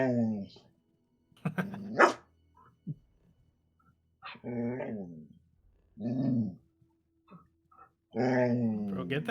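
Dog barking and growling close by in spaced bursts, with harsh vocal barks and throaty growls and brief silences between.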